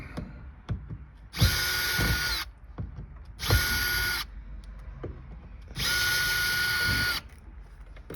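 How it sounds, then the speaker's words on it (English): Power drill backing out screws from the upholstery of a 1949 Ford soapbox car, three loud sustained whirring bursts of a few seconds each, separated by quieter handling clicks and knocks. "I got the screws. I'm getting the screws out"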